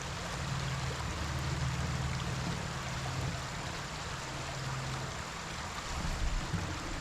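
A river running alongside a trail where salmon swim gives a steady, broad wash of flowing water, continuous and fairly close, with a low rumble underneath and no voices.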